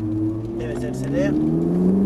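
A Ferrari 458 Italia accelerates on a track, its loud engine note holding and climbing steadily in pitch, with a voice talking over it inside the car.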